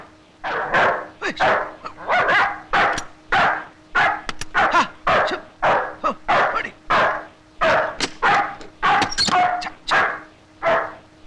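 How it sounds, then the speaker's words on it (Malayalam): A dog barks over and over in quick, sharp bursts, close and loud, with short pauses between barks throughout. "പട്ടി വല്ലാതെ കുറയ്ക്കുന്നുണ്ടല്ലോ"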